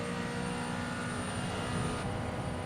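A McLaren GT4 race car at Virginia International Raceway accelerates hard in fifth gear through a fast section, a loud sustained engine drone that holds steady throughout with no talk over it.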